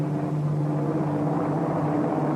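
An airplane engine drones steadily throughout a radio drama scene, a continuous low, even rumble with a fairly loud, unchanging hum and no voices.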